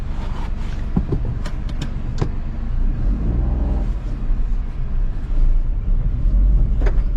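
A Maruti Suzuki Swift car pulls away and drives, with a low engine rumble and road noise inside the cabin, punctuated by a few sharp clicks and knocks.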